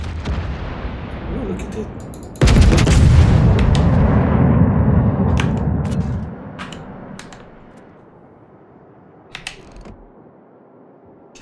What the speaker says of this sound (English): Let's wait until all shells are loaded so we can fire.